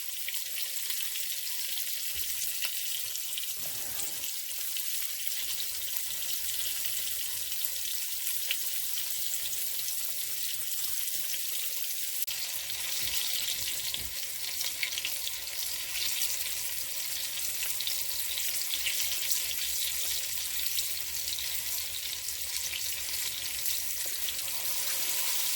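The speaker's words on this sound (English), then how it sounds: "I'm cooking them in olive oil" Morel mushrooms frying in olive oil give a steady, even sizzle and crackle that holds without a break, close and moderately loud, with no voices.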